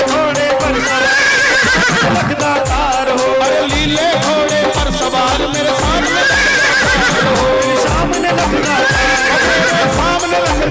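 A horse neighs and clip-clops as a sound effect layered into a Hindi devotional song, the whinnies and hoof beats recurring over loud, dense rhythmic music throughout.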